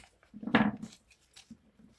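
Scissors snip through envelope paper in one short, close cut with a crisp rasp, followed by a faint second snip and quiet rustling of paper.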